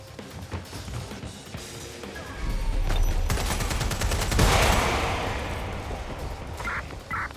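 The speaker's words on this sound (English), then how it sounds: "Taking fire!" Gunfire in the video game Watch Dogs: Legion, a burst of rapid shots that swells into a loud sustained roar of fire before fading, with a few sharp pops afterward.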